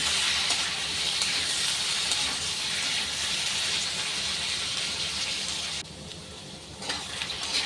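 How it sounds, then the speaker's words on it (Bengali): Potato pieces fry in a pan with salt and turmeric, giving a steady, close sizzle that goes on continuously. It briefly quiets toward the end, then picks up again. "দিয়ে নাড়াচাড়া করে 2 মিনিট লাল লাল করে একটু আলুগুলো ভেজে নেব।"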